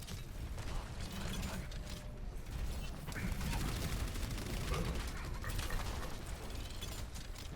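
Rapid gunfire hammers and shatters a barrier shield during a professional Overwatch League match between LA Gladiators and NYXL, a dense continuous clatter of mechanical impacts and shots that stays loud and busy throughout.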